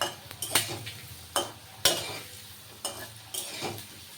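Potatoes frying in a pan, an oily sizzle under repeated scraping and clinking strokes of a spatula against the pan, several sharp knocks at irregular intervals.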